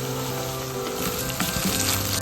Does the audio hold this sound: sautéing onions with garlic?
yes